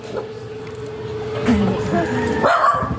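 A dog barks and yips a few times close by, with people talking around it.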